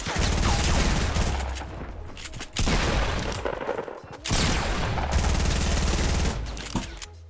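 Rapid bursts of automatic gunfire in the Fortnite battle royale, loud and dense, cut by two brief pauses before the shooting resumes, with no talking over it.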